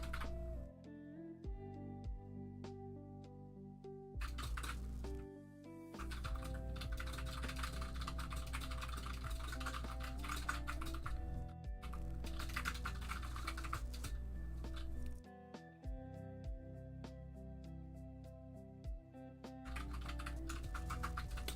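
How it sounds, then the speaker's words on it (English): Computer keyboard typing makes a steady patter of soft clicks during a painting livestream, running with brief pauses under a continuous tonal background. "Should do a typing ASMR"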